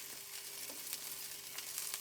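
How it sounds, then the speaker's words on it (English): A steady, crackling sizzle of garlic frying in a pan, close but fairly quiet, with occasional louder pops. "that's sizzling away nicely now"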